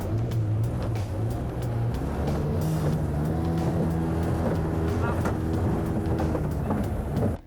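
An outboard motor on a tinny boat in a dinghy derby race drones steadily and close, its throttle note shifting in pitch, with wind and water noise around it and no clear talk.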